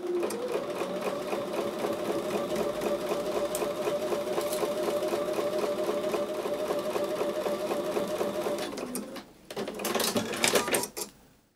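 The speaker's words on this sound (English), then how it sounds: "I'm going to take these to the sewing machine and sew with a 1/4 inch seam." A sewing machine runs steadily, stitching a quarter-inch seam on a diamond square quilt block, with a continuous even whir for about nine seconds before it stops and a few brief handling clatters follow.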